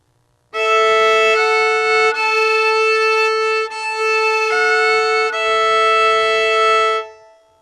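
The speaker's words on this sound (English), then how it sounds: "A sound you often hear in old-time music is the sound of droning." Bowed fiddle playing a changing old-time melody over a constant droning open string, sustained and loud for several seconds, with no talking.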